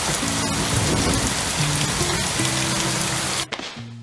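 Steady rain falls outdoors in foul weather mixed with snow, a dense continuous hiss of drops on surfaces that cuts off abruptly near the end.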